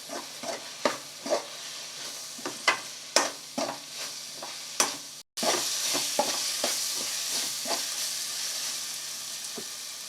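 Mushroom pepper masala stirred in a pan, a spoon scraping and tapping out a steady rhythm of clicks over a soft sizzle, with a brief cut midway before the sizzling stirring goes on.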